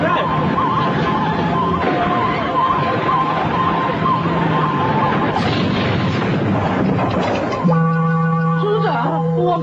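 A police car siren in a chaotic cartoon chase scene, a loud continuous wail blended with crashing noise and shouting voices, ending in a clearer steady siren tone.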